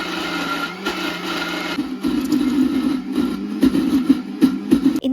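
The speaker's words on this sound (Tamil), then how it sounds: "இப்போ பெரிய சைஸ் மிக்சர் ஜாரில் பாதி அளவுக்கு ஃபஸ்ட்டு சேர்த்துட்டு அரைச்சி பார்க்கலாம்" A mixer grinder grinding batter in a large 3-litre jar gives a steady motor whine with rough churning pulses and rattling that grow louder partway through, with no talk.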